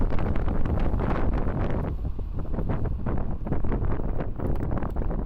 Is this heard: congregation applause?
no